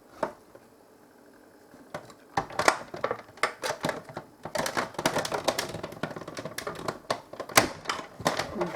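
A paper card is cranked through a manual embossing machine inside its embossing folder, giving a close, rapid run of crisp clicking and ratcheting that builds after a quiet start and keeps going unevenly, with no talking.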